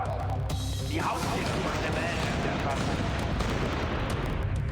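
Turret gunfire in the video game inFAMOUS: constant rapid firing and explosive booms make a dense, loud, unbroken wall of sound, with a voice talking over it.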